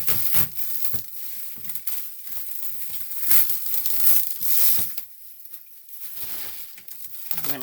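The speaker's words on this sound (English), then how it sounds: "Let me unwrap this." Plastic wrapping crinkles and crumples in bursts as a packaged foldable table on wheels is unwrapped by hand, close and moderately loud, with brief tearing and a quieter pause near the end.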